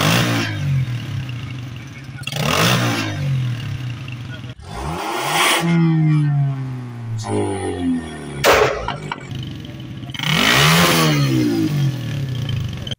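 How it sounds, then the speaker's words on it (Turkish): Loud revs from cars with modified exhausts during a Turkish police roadside noise inspection, a series of rising engine bursts and roars, with voices talking among them. "Bas bakalım, gaza bas."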